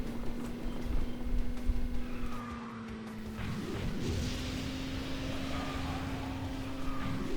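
Kart engines racing in the mobile game KartRider Rush Plus, a steady buzzing motor hum that dips briefly mid-way then resumes, with scattered game effects over a continuous drone and no talk.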